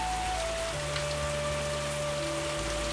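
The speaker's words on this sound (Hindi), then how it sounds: "अचानक बिजली चमकी और कुछ ही पलों बाद तेज बारिश शुरू हो गई।" Heavy rain falls in a steady, dense hiss, continuous and fairly loud throughout, with faint low hum tones underneath.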